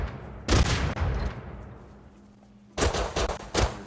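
Pistol shots in Rust Console Edition: a sharp burst early on, a fading tail, then a louder cluster of three or four rapid close shots near the end, with no talking.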